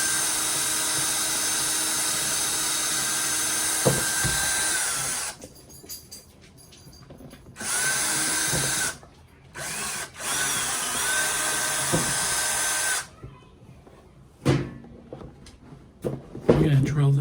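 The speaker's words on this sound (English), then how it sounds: "So I'm gonna drill this last hole because for some reason this box does not want to cooperate." A power drill bores a hole in a box, whirring loud and steady in several separate runs with stops between them, followed by knocks and handling clatter near the end.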